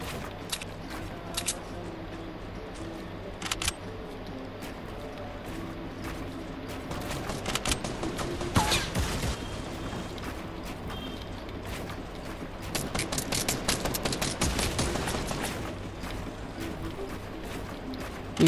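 Gunfire from Fortnite Battle Royale crackles in irregular bursts over steady game background noise, with dense clusters of shots around the middle and toward the end.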